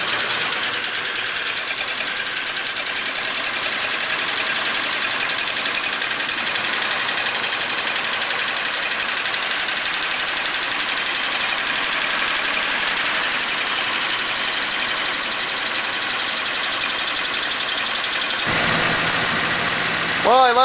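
A 1941 Pontiac engine with a sticking valve and a worn choke idles steadily as it warms up, giving an even, continuous hum and hiss with no clear talk over it.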